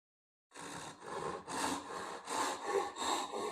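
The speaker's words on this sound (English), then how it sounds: "You just let the saw do its own cutting." A handsaw crosscuts wood in about six smooth, even strokes. The strokes start after a brief silence and rasp close and clear, with no voices.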